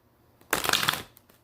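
A deck of tarot cards riffled once in a quick shuffle during a reading, a short crisp flutter close by in an otherwise quiet room.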